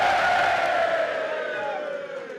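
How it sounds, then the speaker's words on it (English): Crowd cheering and whooping at Sutton United's football ground, a sustained broad roar of many voices that gradually fades. "Should we have a cheer?"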